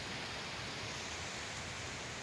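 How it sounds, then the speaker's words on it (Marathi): Steady rain falling in calm, windless weather near a mango tree and fields, heard as an even, dense hiss with no gusts or breaks. "पाऊस तुम्ही बघू शकता, किती वारं नाही, काय नाही, फक्त पाऊस आहे"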